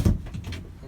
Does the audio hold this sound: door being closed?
yes